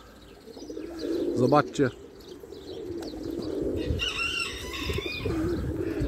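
Pigeons cooing at close range in a rural yard, soft throaty calls and a few chirps sitting under a man's speech and background noise.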